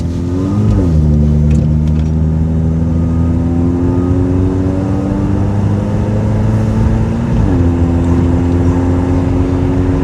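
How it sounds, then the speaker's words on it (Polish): Honda Odyssey RA (Shuttle) 4x4 Japanese minivan accelerating gently, its engine note rising steadily in two smooth pulls with a brief gear change between, close and loud with no talk. "Delikatnie tylko duszę gaz i ono naprawdę fajnie się napędza."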